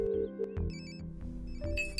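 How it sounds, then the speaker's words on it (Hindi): A telephone rings in short electronic bursts over a background of music and ambient room tone, moderately faint, with no speech. "रिंग जा रही है।"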